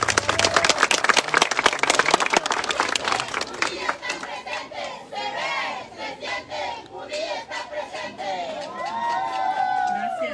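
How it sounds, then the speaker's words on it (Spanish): A crowd at a political campaign launch bursts into loud clapping and cheering, then shouts and chants break out with voices rising over thinning applause. "Brindémosle un fuerte aplauso, por favor."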